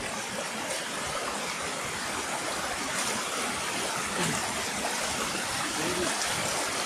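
Water from the fort streams down beside a stone-stepped trail, a steady broadband rush with no break that stays fairly loud and near.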